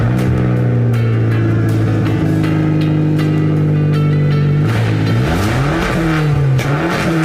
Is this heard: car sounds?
yes